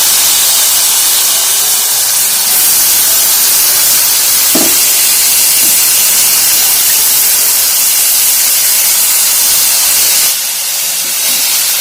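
Washed flat beans hit frying onions in a pan and set off a loud, steady hiss of sizzling that runs close and continuous throughout, with a faint knock partway through.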